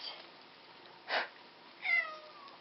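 A cat gives two soft meows close by, the second drawn out and rising, over a faint background hiss.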